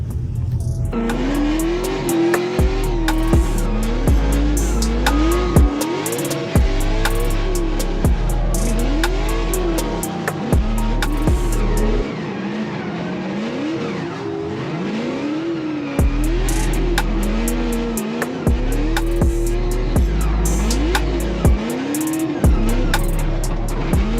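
A Formula Drift race car drifting on track, its engine revving loudly in repeated rising and falling pulls, with tire squeal and sharp drops in revs, close and continuous throughout.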